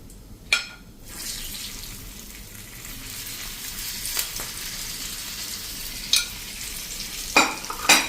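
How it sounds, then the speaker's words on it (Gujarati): Stuffed glueberries drop into hot oil seasoned with cumin, mustard seeds and asafoetida, giving a steady hiss of frying with a few sharp splashes and clinks scattered through, close and fairly loud, with no voices. "1/4 ટીસ્પૂન હિંગ નાખીને અને આપણે જે ગુંદા ભર્યા છે એને જ આપણે આમાં તેલમાં એડ કરી દઈશું"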